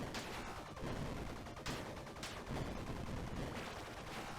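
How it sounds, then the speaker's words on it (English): Dense, continuous barrages of explosive fire from a boss launching missiles in the action game Bleed, loud and steady with repeated blasts overlapping throughout. "And he's constantly firing missiles."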